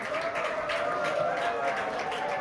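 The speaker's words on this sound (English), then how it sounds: "Can we have a big round of applause, everyone?" Audience applause at a business communication department pep talk event, a steady dense wash of clapping sustained throughout at moderate level, with no clear speech over it.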